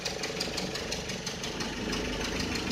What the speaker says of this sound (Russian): Вот двигатель работает.